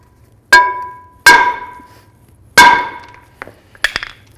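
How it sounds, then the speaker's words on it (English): Three loud, ringing metallic hammer blows strike a rear brake rotor on a 2017-or-later Ford F-350 dually to free it from the hub, followed by a couple of lighter clinks, close and alone. "I'm just gonna bonk the rotor and try to separate it from that hub."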